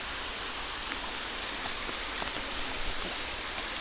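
Rain falls on a wooded trail beside a stream in Wissahickon Valley Park, Philadelphia, a dense, even hiss of water and rushing flow filling the whole span without pause or voices.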